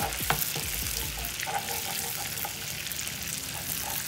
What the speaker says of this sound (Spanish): aquí ya agarró color el ajito y le vamos a revolver la crema